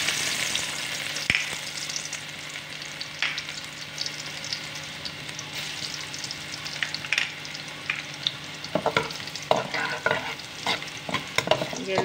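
Garlic sizzling in hot mustard oil in a pan, a steady frying hiss with occasional stirring scrapes and clinks, close and moderately loud, with no talking.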